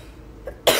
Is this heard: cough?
yes